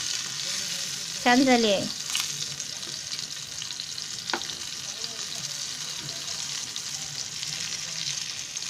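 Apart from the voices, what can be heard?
stuffed green chilies frying in a pan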